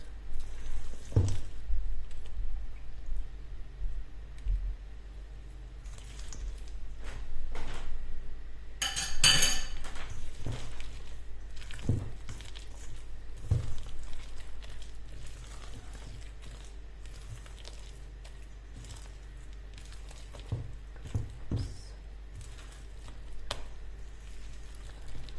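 Spatula stirring muffin batter with banana, blueberries and chocolate in a bowl, soft scraping and scattered light clinks and taps against the bowl over a low steady hum, moderately close.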